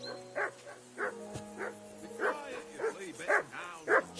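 Dog barking in the video game Kingdom Come Deliverance 2: a run of repeated sharp barks and yips at a steady rhythm, fairly close, over a faint background hum.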